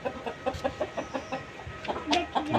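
Chickens at a poultry farm in Patna, Bihar, including heavy male roosters, cluck in quick repeated bursts, loud and close, with a brief louder squawk near the end.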